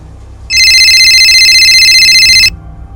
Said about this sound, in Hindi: बैल जा रही है, उठा नहीं रहा।